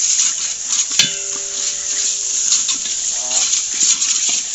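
Ginger and garlic are stirred in a frying pan over a bright, continuous hiss of sizzling oil, with a sharp metallic clank near the start and utensil scrapes against the pan, close and fairly loud.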